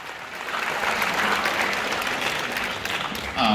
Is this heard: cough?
no